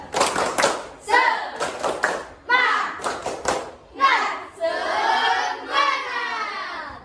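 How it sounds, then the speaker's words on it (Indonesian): A classroom of children performs a rhythmic clapping chant, bursts of sharp unison claps alternating with loud group chanting in a repeating pattern, fairly close and lively. "Kita tepuk semangat dulu. 1, 2, 3. Tepuk semangat."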